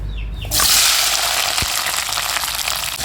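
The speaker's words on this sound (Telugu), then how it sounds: "పచ్చి టమాటాలు ఇలా కట్ చేసుకొని ఆయిల్లో వేసి ఫ్రై చేసుకున్నాము" Cut green tomatoes land in hot oil and sizzle loudly from close by, a sudden onset of dense frying hiss that holds steady to the end, with no talk.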